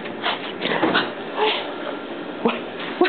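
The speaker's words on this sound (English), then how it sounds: "What could be better than a dog that's so glad to see you?" A dog whimpers and yips in excitement at seeing its owner, high, thin whines and short squeaks coming in quick bursts up close over a breathy, rustling background.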